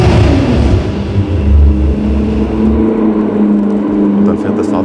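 Audi Nuvolari car engine idling and revving in or near a garage, a loud, steady low rumble with fluctuating revs that eases slightly toward the end.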